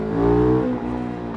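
A KTM 990 Duke motorcycle engine revs hard and close during a wheelie, its pitch swelling briefly and then easing back in a loud, brief burst.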